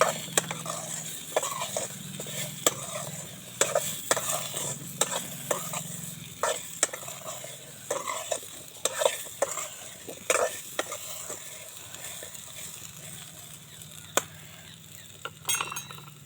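Sweet potato being stirred with salt in a pan, a continuous low sizzle under frequent irregular spatula clinks and scrapes against the metal, close and crisp, no talking.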